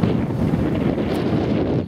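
Wind buffets a microphone in the woods near an abandoned gamekeeper's cottage, a loud, continuous low roar that fills the whole short stretch with no other sound.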